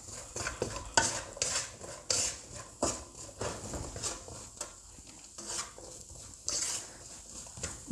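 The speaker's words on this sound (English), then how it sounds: "Now I'm going to fry this for a couple of minutes till my onions have gone soft." Onion and salt frying in a pan for pork chops in black pepper sauce, a soft, steady sizzle broken by repeated scraping and clattering stirs of a utensil against the pan, close and fairly quiet, with no talking.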